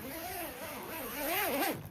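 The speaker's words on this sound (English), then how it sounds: "and zip it up." A zipper is drawn along the waterproof zippered cover of a safety bed in one continuous rasping pull lasting under two seconds, close and fairly quiet.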